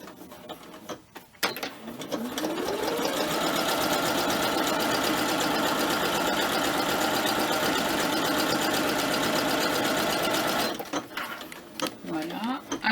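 A sewing machine stitches a backtack on a shirt pocket, a fast, mechanical whirring chatter running steadily for several seconds between quieter handling noises at start and finish.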